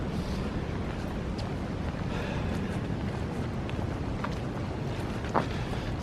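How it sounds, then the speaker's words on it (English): Wind blowing outdoors in the woods, a steady, dense roar buffeting close to the microphone throughout, with no talking and only small shifts in intensity. "It's blowing with wind."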